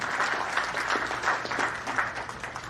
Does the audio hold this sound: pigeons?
no